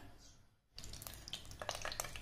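A spoonful of ghee hits a hot kadhai for tempering vermicelli in jaggery sheer khurma, and after a brief pause a faint, crackling sizzle starts and continues.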